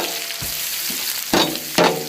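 Chopped onion with garlic sizzles in butter in a pan, a steady frying hiss broken by a few soft clunks and two louder stirring scrapes.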